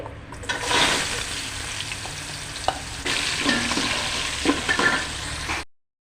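Biryani spices and carrot frying in oil in a pan, giving a steady close sizzle broken by scraping stirs and bursts of louder crackling, ending abruptly in silence.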